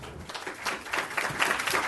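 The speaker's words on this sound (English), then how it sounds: "Give him a round of applause" Brief applause at a Fort Worth ISD meeting for the newly introduced chief internal auditor, a short burst of scattered, moderately loud clapping from a modest room audience.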